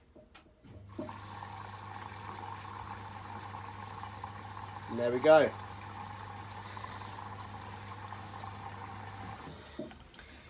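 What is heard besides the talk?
Bosch Serie 8 washing machine dispensing water into drum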